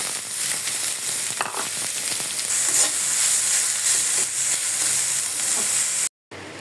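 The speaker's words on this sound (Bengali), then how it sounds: "এখন পেঁয়াজ রসুন দিয়ে শাকের মতো বাগার দিয়ে দিচ্ছি।" Greens tempered with onion and garlic in hot oil sizzle steadily and close up, with occasional stirring scrapes, before a brief cut to silence near the end.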